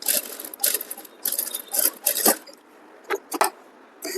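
Sewing machine stitching a blouse neckline, run in short irregular bursts separated by pauses, close and moderately loud with no talking.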